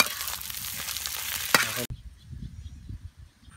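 Aligue rice, made with crab fat, is stir-fried outdoors and sizzles loudly under scraping spatula strokes for about two seconds. The sound then cuts off to faint low rumbling.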